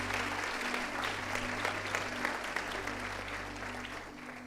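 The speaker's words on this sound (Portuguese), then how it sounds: "Dá uma salva de palmas para Jesus" A congregation at a Sunday church service applauds Jesus with a steady, even wash of many hands that stays moderately faint over a constant low hum throughout.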